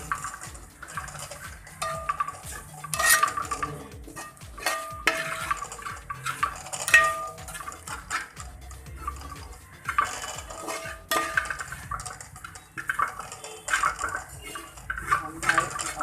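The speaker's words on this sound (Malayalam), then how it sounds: "ഒരു 1/2 സ്പൂൺ ഗരം മസാല ചേർത്തതിന് ശേഷം നന്നായി ഇളക്കുക." Chicken curry masala with fennel powder and garam masala stirred in a pan for village-style country chicken curry, with repeated close scraping and clinking of a spoon against metal in an irregular rhythm over a soft sizzle, no speech.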